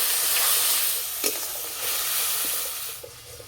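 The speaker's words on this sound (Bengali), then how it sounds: "মশলা ভালো করে কষিয়ে নিয়েছি" Spice paste of ground cumin, turmeric and water being sautéed in a pan, with a soft hiss and sizzle under occasional scraping strokes of a spoon, close and continuous, with no voices.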